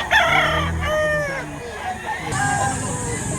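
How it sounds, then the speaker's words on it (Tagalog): A rooster crows loudly and close at a Saturday chicken market in Lipa, Batangas, with a couple of drawn-out calls amid clucking and a busy market background. "Quality manok ito."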